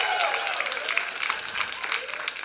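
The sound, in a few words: audience applauding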